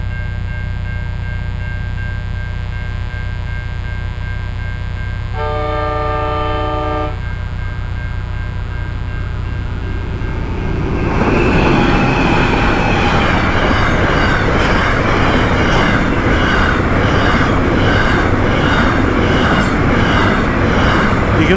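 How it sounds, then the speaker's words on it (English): A long freight train passes close by: its horn blasts once for a couple of seconds over a steady rumble, then the roar of the wagons swells and continues loudly with rolling clatter. "Be a freight train, I suppose."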